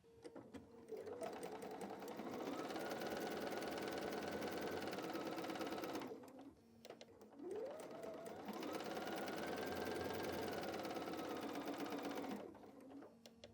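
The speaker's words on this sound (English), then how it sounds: "I'm just going to sew 1/4 inch on either side." A sewing machine stitches a quarter-inch seam in patchwork quilting fabric, running in two sustained whirring bursts separated by a short pause, close and steady, with no voices.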